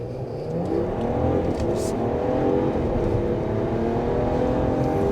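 A 2025 RAM 1500 Laramie pickup with a twin-turbo inline-six pulls away hard from a standstill at a stop sign. Its engine gives a steady, continuous drone that swells slightly as it gains speed.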